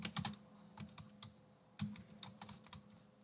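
Quiet, close keystrokes on a computer keyboard come in short irregular bursts of clicks with brief pauses between them.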